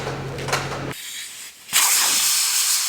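Compressed air hisses in loud, close bursts as tractor tires are inflated, with a short gap between blasts and a steadier, sustained rush after it.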